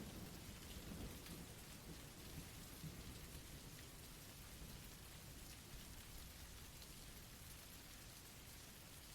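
Steady rain pours down with rumbling thunder, a soft, even hiss of falling water and low rolling booms that continue throughout, with no voices.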